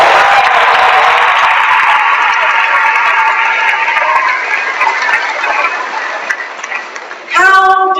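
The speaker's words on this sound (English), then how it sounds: "that deserves an applause" Sustained audience applause at a 2015 commencement ceremony, a dense broad wash of clapping from a large crowd that holds steady for about seven seconds before thinning, then a voice begins speaking at the end.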